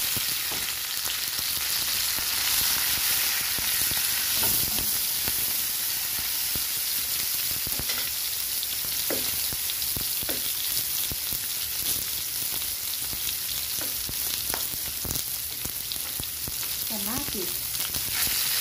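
Onion and garlic sautéing in a hot pan give a steady, close sizzle and crackle with occasional scrapes of stirring, running unbroken throughout.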